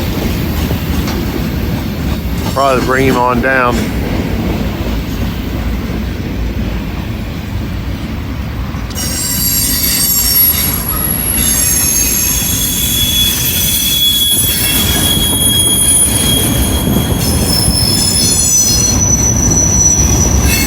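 A train rolls past on the railroad, its loud continuous rumble joined by squealing wheels and later high metallic screeching, with a brief spoken remark early on.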